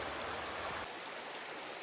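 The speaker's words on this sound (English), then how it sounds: "This one behind me is pretty small, but yet it still provides an influx of cool, fresh, oxygenated water into the river." Small tributary stream pouring fresh, cool water into a river used as salmon habitat, a steady broadband rush of flowing water close by that softens slightly partway through, with no voices.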